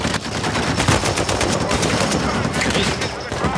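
Rapid blind-fire gunshots in the Uncharted 4 video game crackle loud and dense in a continuous burst, layered with battle noise and no pauses.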